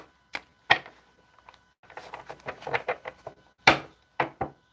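Tarot cards being shuffled by hand, a few separated crisp riffles and slaps with quiet gaps, close and fairly soft, no voices.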